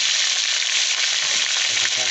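Pork ribs fry with garlic in a pan, a loud continuous hiss and crackle of hot oil close up, with no pauses.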